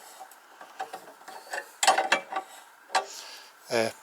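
Clicks and ratcheting creaks come from a tensioning bar being tightened and loosened on a homemade sheet metal brake built with stud iron, in scattered bursts of mechanical clatter, fairly close and moderately loud, no talk.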